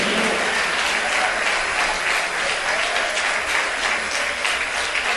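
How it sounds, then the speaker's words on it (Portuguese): A church congregation applauding together, a loud, dense and continuous roar of clapping hands that fills the whole stretch without letting up. "aplauda o nome do Rei dos Reis e Senhor dos Senhores."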